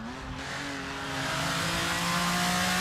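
Race cars roar along a circuit, their engines climbing steadily in pitch and growing louder as they approach, with no voices over them.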